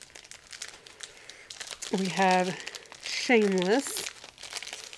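Plastic packaging around a sticker kit crinkles and rustles up close as it is pulled open, in scattered bursts of crackling under someone talking.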